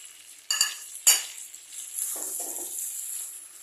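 Potatoes dropped into a pot of well-browned chicken: two sharp clanks of utensil on metal, then a brief low rustle of pieces going in, followed by a soft, steady sizzle.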